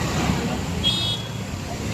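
Road traffic in Bangalore, India, makes a steady wash of engine and tyre noise with a brief faint horn toot in the middle.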